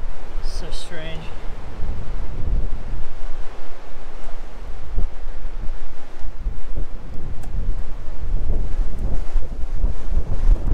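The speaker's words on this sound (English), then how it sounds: "Right now, it's just hardcore. Windy." Strong wind at the coast buffets the microphone in loud, continuous gusty rumbles with surf-like roar beneath, close and unrelenting, while a voice speaks briefly near the start.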